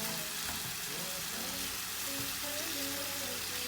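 Fish and dried loitka shutki fry together in a pan for a bhuna, giving a dense, constant sizzle with occasional stirring, close up and fairly even in loudness.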